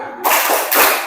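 Standing classroom of students doing a rhythmic group clap as an ice-breaker during a lesson, a loud burst of claps in two surges, close and dense, with no talk over it.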